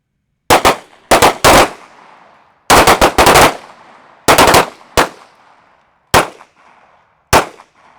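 Gunfire at an outdoor shooting range during a defensive pistol drill, loud sharp shots fired in quick pairs and bursts with ringing decay between, spread across eight seconds with no talk.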